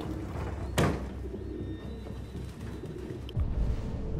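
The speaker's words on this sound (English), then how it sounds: "we got birds every damn where." Pigeons coo in the video game Detroit: Become Human, a soft low murmur of bird calls within a dense ambient background, with a sharp bang near the start and no talk.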